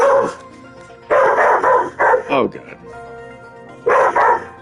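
A pet dog barks in several loud, close bursts indoors, with a short pause between groups of barks and a person speaking briefly.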